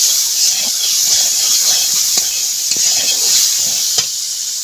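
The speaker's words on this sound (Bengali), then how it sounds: "শুধুমাত্র দুধটাকে জ্বালাচ্ছি" Milk boiling in a pot for homemade sweet yogurt, a steady close hiss and simmer with a few faint clinks or stirring taps scattered through it.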